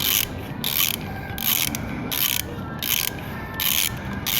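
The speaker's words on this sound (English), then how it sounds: "go ahead and snug them up, and then we'll follow up with the torque wrench" Ratchet snugging down cylinder head bolts on a 1985 Suzuki GS450 motorcycle during a top end rebuild: repeated bursts of fast clicking in even strokes, close and steady, with no talk.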